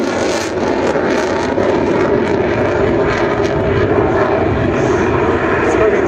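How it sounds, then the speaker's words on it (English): An Italian Air Force Eurofighter Typhoon at an air show in Radom roars with loud, continuous jet engine noise at close range, a dense, broad rumble that holds steady throughout, with a commentator's voice faintly under it. "before running up his engines again."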